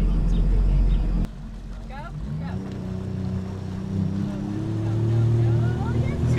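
A boat engine runs steadily after being put in gear on a trip from West Palm Beach to Fort Lauderdale, a constant low drone with wind rush and people talking over it.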